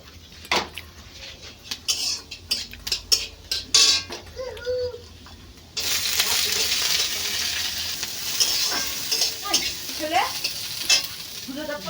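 Ginger fried and stirred in a pan at home, with clinks and scrapes of a metal utensil against the pan, then a louder, steady sizzle taking over partway through, and faint voices in the background.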